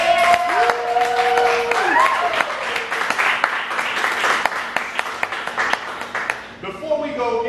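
Audience clapping at a live poetry event in a Chicago chocolate shop, a mid-level patter of hands that thins into scattered claps, with a voice speaking over it toward the end.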